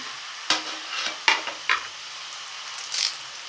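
Pepper, cumin, fennel, poppy seeds, cashews and dried chillies roast in a pan: a soft, steady sizzle broken by a few sharp scraping stirs close by, then quieter, with no talking.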